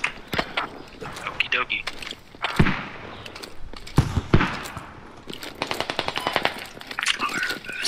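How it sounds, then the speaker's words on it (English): Rapid squad gunfire in a first-person shooter match: dense bursts of automatic fire and sharp single shots crackling close and loud, mixed with footsteps and talk. "Suppressing fire!"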